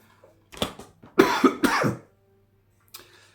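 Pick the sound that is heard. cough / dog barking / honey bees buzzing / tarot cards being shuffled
cough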